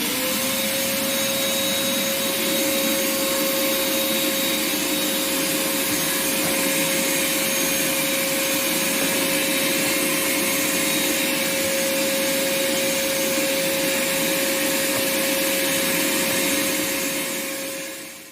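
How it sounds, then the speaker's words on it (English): An industrial vacuum cleaner runs steadily nearby, a loud constant whine and rushing airflow with a faint scraping rub underneath, lasting the whole stretch before cutting off at the end; no one speaks. "our trusty industrial vacuum cleaner"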